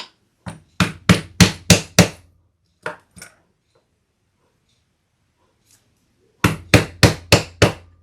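Wide rivets hammered into a leather bag: a loud burst of five or six quick close strikes, two isolated taps, a long pause, then another rapid run of five sharp blows.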